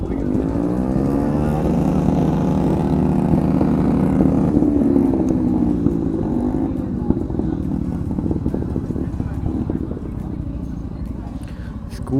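At a World Motorcycle Day bike gathering, a scooter engine revs hard and loud, its pitch sweeping up and down before settling into a steady roar, with crowd chatter mixed in.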